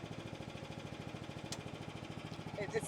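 A mini excavator engine runs with its throttle being raised, a close, rhythmic low chugging rumble that holds steady throughout.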